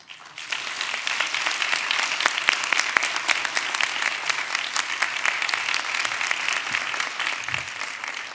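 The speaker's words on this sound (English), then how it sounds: "how about one more round of applause for all of our fabulous finalists and semifinalists" Applause for finalists and semifinalists at a Do Good Challenge finals event bursts in after a brief quiet and holds for several seconds as a full, dense wash of clapping, with a few sharp individual claps standing out.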